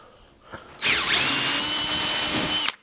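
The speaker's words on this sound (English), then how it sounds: "drill through until the drill bit pops out and then come back in the other way" An electric drill spins up abruptly, its whine dipping as the bit bites into wood, then runs steadily at a loud, high pitch for about two seconds before cutting off.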